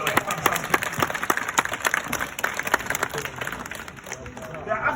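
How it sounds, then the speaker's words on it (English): Crowd clapping at a sea lion show at Flamingo Land in Scarborough, a busy patter of many hands mixed with open-air crowd noise and chatter throughout. "If he gets this, give him a big clap."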